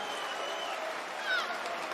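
A darts crowd at the German Darts Open applauds and cheers, a dense, continuous wash of clapping and crowd noise that swells briefly near the end.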